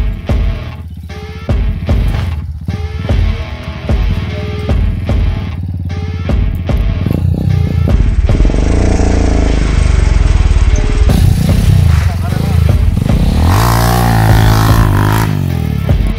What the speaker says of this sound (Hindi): चले ठीक है अभी यहाँ से बाइक उतारते हैं।